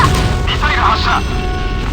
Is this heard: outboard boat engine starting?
no